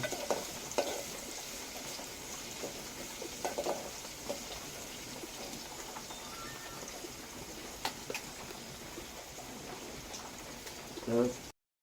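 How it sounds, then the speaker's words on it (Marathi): Food frying in oil until reddish in a pan over a wood-fired clay stove in a rural Konkan kitchen, a steady soft sizzle with occasional stirring scrapes and a louder bubbling burst near the end, while people talk. "हा चांगला लालसर होईपर्यंत तेलामध्ये फ्राय करायचं"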